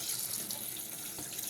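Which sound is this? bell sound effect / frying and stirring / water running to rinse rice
water running to rinse rice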